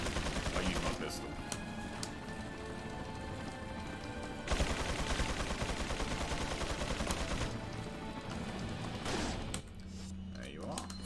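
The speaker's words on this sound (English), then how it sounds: "I use my pistol." Pistol fire in Resident Evil 4 comes as rapid sharp gunshot cracks in dense bursts, nearly continuous and loud, with game sound effects layered beneath and a short drop near the end.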